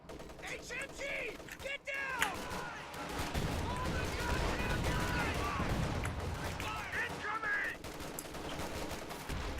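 MG34 machine gun fire in Company of Heroes 2 rattles in repeated bursts beneath continuous game noise and mechanical clatter, with a commentator talking over it.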